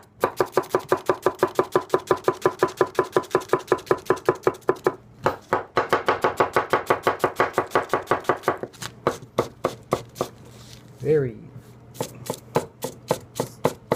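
A Teruyasu Fujiwara kitchen knife, 210 size, cuts food on a board in rapid, even, crisp chops, pausing briefly, then resuming before slowing into sparser single strokes; a brief vocal sound appears near the end.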